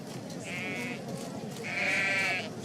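Two drawn-out sheep bleats, the second louder and longer, sound near a sheep pen in the game I Am Jesus Christ, set against a steady ambient backdrop.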